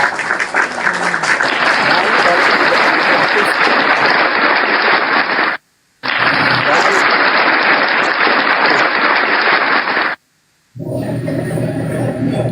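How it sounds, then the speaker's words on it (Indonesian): Loud, dense applause from an audience, two long bursts of sustained clapping separated by a brief silence, followed by quieter room sound at the end. "Tepuk tangan teman-teman."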